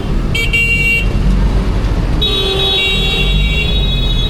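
Car horns honk amid busy Medellin traffic, with a couple of short beeps followed by a longer, louder blare over a constant roar of engines and road noise.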